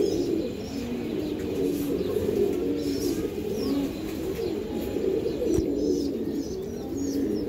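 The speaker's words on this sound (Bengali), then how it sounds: "এটা হলো মাদি কবুতরটা" A female racing homer pigeon coos steadily at close range, a low throaty murmur repeating without pause, with faint chirps from other birds nearby.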